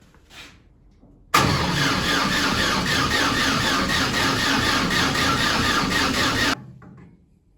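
A 1300cc stock car engine starts up close by, breaking from near silence into a loud, steady roar that holds for about five seconds before cutting off abruptly, with no talking.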